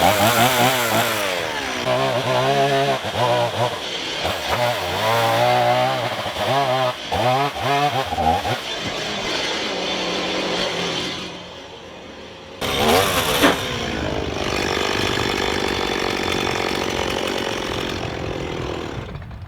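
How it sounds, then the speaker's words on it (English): A chainsaw cuts a window opening through the log wall of a simple cheap log house, revving loud and close with a rough bogging roar that rises and falls through the cut, dips briefly, then runs steadily again. "I'm gonna cut the whole opening in the wall with a chainsaw."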